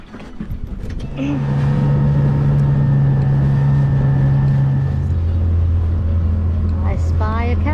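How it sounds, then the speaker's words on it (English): A small dinghy outboard motor starts and runs on the water, a loud, steady droning hum that shifts pitch partway through, close by. "loading up the dinghy"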